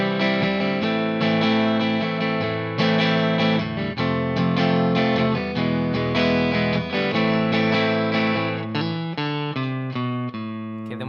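Electric guitar playing the B section of a song as straight chords in a shifting rhythm, bright twangy strums sustaining and ringing, close and steady throughout with no talking.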